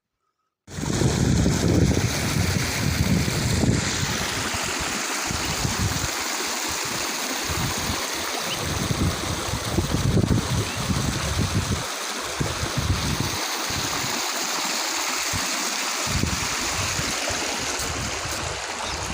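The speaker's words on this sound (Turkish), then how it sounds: "dereden karşıya geçiyorum. Dere bayağı akıyor." A strongly flowing village stream near Çorum, Turkey, with water rushing continuously and loudly over rocks, close by, with no talk.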